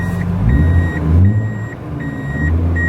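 A Mazda RX-7 reversing into a parking spot at a Japanese car auction, with an engine idling low and close while a steady series of high reversing beeps repeats at an even pace.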